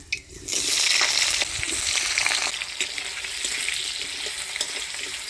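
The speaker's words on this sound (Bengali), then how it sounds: "ফোড়নের তেলে আলুটা নাড়াচাড়া করে নিলাম" Potatoes being stirred in hot tempering oil with black cumin seed and dried chillies, a loud, close, continuous sizzle that surges at the start and carries on steadily, with faint stirring scrapes and no talking.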